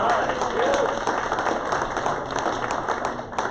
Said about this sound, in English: So give yourself a big applause.